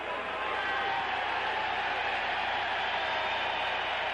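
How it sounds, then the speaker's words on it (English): A large boxing-arena crowd roars steadily for boxer Terry Daniels, a dense, sustained cheer from start to finish. "Terry Daniels being cheered by the crowd."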